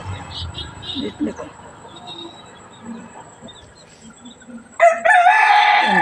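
Chickens cluck faintly in a village coop amid low background chatter, then a loud, close rooster crow bursts in near the end.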